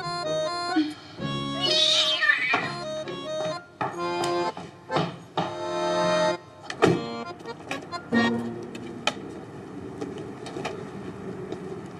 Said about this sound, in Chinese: 大姨的猫叫毛毛